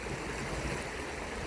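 Yakima River running at typical early-summer high flow, a steady broadband rush of moving water that stays even and continuous through the short stretch with no voices.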